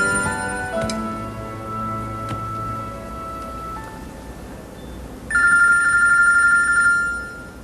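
A telephone rings in a home with repeated bell-like electronic trills, loud and close, followed by a brighter ringtone burst near the end, with no one speaking over it.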